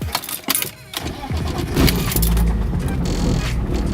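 A Nissan 240SX engine cranks and fires up with the ignition key, a brief rattle of keys followed by a steady, close rumbling idle that holds loud to the end.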